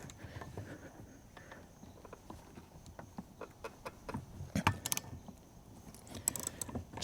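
A wrench works a rusty 15 mm wiper arm nut on a Chevrolet Cruze, making close, faint metallic clicks and jangling ratchet sounds in irregular bursts against a quiet background.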